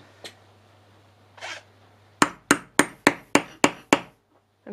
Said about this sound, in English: And hammer it closed.